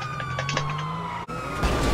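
A police car siren in GTA role-play sounds loud and steady, with sustained electronic tones and a mechanical hum beneath, cutting out briefly in the middle before resuming.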